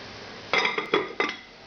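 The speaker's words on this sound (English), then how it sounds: "Cover goes back on." A cooking pot's lid set back in place during a beef bourguignon braise, giving three distinct metallic clinks close up, no talking.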